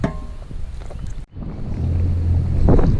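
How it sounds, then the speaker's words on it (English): Steady low rumbling wind buffeting the microphone outdoors, loud and continuous, with a brief dropout partway through, then building stronger. "Alright, slightly windy"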